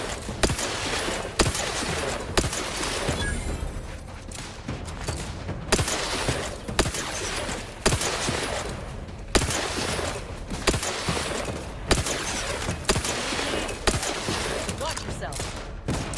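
Repeated gunfire from a weapon in The Outer Worlds video game, sharp shots bursting in an irregular rhythm throughout over a dense, loud background of game sound, with a voice talking at times.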